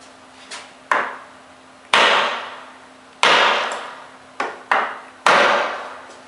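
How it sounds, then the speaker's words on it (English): Hammer blows on a wooden block strike RTA cabinet wood, about eight sharp knocks at uneven intervals, each with a short ringing decay, close and loud with no talk. "with just a hammer and block, and it won't damage the wood"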